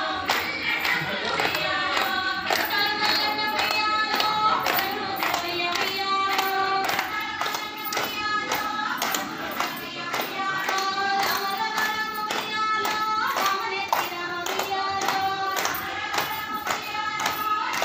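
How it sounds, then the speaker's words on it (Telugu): A group of women clap in steady unison rhythm while a Bathukamma dance song plays at a gathering at Hyderabad's City Central Library, the claps sharp and regular over continuous music. "ఇప్పుడు మంచిగా కలిసింది, చప్పట్లు బాగా కలిసినాయి"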